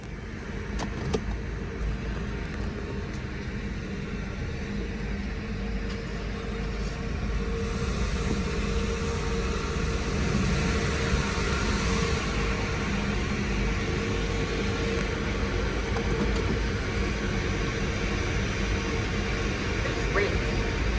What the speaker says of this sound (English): We are washing the car ahead of you.